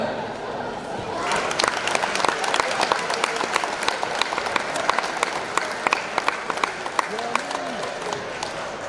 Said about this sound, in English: And please give each one a round of applause as they walk in.